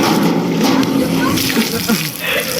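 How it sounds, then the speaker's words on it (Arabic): Water gushes from a hose into a large cooking pan outdoors, a loud continuous splashing rush, heard beneath someone talking. "امسك خرطوم الماء عادل."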